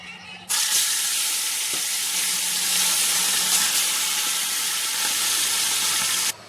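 Tilapia fries in hot oil in a pan with a loud, steady sizzle and crackle that starts abruptly and runs unbroken, close up, before cutting off.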